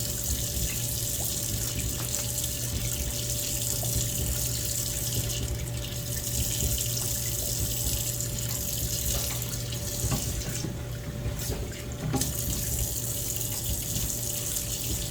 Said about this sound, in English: as you can tell, water's constantly flowing over it